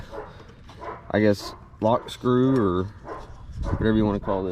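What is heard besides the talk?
dogs barking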